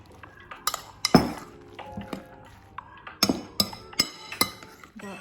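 Egg and flour batter is mixed in a bowl with a spoon, giving irregular close clinks and taps against the bowl's sides, separated by softer scraping and stirring.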